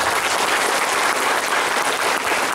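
Dense, steady applause from a large audience of santri and parents at a pondok pesantren gathering, a broad wash of clapping that holds at full strength throughout without a break.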